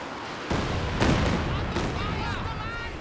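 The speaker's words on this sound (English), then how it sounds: "Decent Katyusha barrage here." Katyusha rocket barrage in Company of Heroes 2, a burst of booming impacts and crackling blasts rising suddenly, then rumbling and fading with faint whistling streaks; a voice talks underneath.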